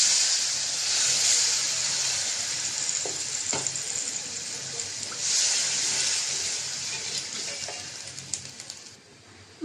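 Water poured into a hot pan of fried spice masala for fish curry sends up a loud, steady hissing sizzle that swells twice and fades slightly toward the end, with no voices.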